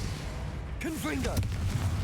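A Confringo blasting spell explodes in Hogwarts Legacy: a sharp, bright blast with crackling debris cuts through a steady low rumble, and a voice shouts briefly just before and over it.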